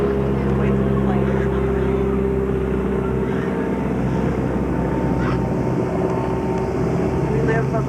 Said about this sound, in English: Wait for the plane.